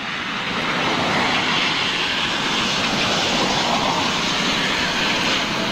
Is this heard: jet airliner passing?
yes